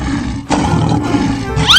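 A lion in a 3D animal video game lets out a loud, close, sustained roar, cut into short surges and ending with a brief electronic chirp.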